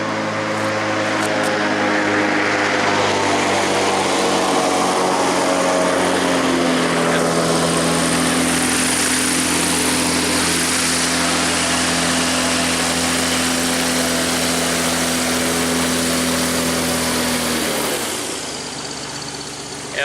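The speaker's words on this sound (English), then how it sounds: "Sounds like we got another airboat coming up the river here" An airboat tour boat passes on a river, its loud propeller-engine roar droning steadily for most of the clip before the noise drops away near the end.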